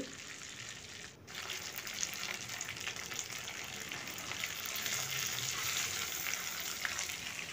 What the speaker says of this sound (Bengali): খুব হালকা হাতে ডিমগুলোকে ভেজে নিতে হবে।